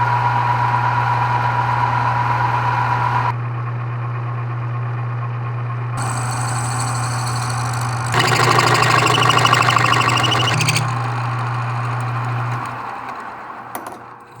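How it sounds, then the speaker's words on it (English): A grill fork handle is drilled through on a lathe in stepped passes, small to large: a steady motor hum runs throughout while the cutting noise shifts in stages, turning harsh and grinding in the middle before easing off. "we'll go over to the lathe and we'll drill through this back side all the way to this point"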